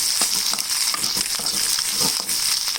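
Garlic chilli egg fry sizzles steadily in a pan while being stirred, with scraping strokes and soft clinks repeating every half second or so over the constant frying hiss, close and fairly loud.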